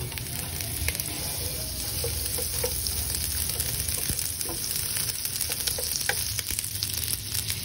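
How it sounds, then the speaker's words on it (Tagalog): Garlic sauteing in butter in a pan for a crab stick Alfredo pasta, a steady close sizzle and crackle with occasional stirring scrapes and pops, no talk. "Now we're gonna saute the garlic"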